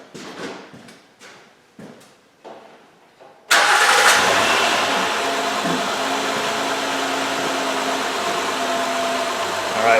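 A Honda van with a charging-system fault is cranked after a few quiet clicks and knocks. The engine catches with a loud burst and settles into a steady, close idle that runs on evenly to the end.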